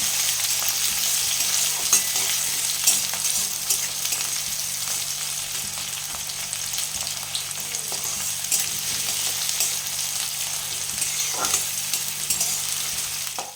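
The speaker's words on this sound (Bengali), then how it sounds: "এখানে আমি একটা বড় পেঁয়াজ নিয়ে নিয়েছি কুচি করে, সেটাই আমি দিয়ে দেব। ভেজে নিতে হবে লাল করে।" Chopped onion frying in a pan, a steady dense sizzle throughout with faint scrapes of stirring, close and alone with no voices.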